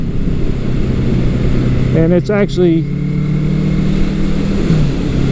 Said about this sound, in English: This bike sounds nice. It's got the Mac 4-into-1 exhaust on it